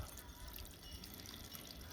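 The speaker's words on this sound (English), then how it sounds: "it'll quit dripping on my deck, because it's dripping all the way down." Water from a freshly unclogged gutter drips and trickles steadily onto a wooden deck, a faint continuous patter of small drops in an outdoor setting.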